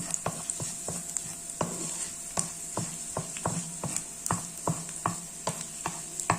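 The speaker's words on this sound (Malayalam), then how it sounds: "കറിവേപ്പിലയുടെ വെളുത്തുള്ളി നല്ലതുപോലെ മൂപ്പിച്ചെടുക്കാം" Garlic and curry leaves frying in hot oil, a bright continuous sizzle close up, punctuated by frequent sharp clicks and scrapes of a utensil stirring against the pan, with no voices.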